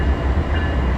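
A Union Pacific train rumbles steadily through Bakersfield Yard, a continuous loud low drone with faint rail clatter and no talk.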